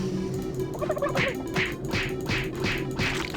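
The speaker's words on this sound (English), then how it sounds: "Turkeys." Cartoonish turkey gobbles from the video game Super Turbo Turkey Puncher 3, a quick run of about five rapid, evenly spaced gobbling bursts over a steady electronic backdrop.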